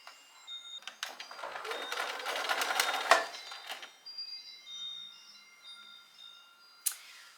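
A sewing machine stitches along the edge of fabric bloomers, a steady whirring run of a few seconds that stops, followed by quieter handling clicks and a brief sharp tick near the end.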